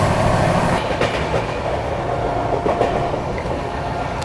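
Jammu Tawi Tatanagar Express running along the rails, heard from on board a passing train as a steady loud rumble with rhythmic wheel clatter and faint squeals, no talk.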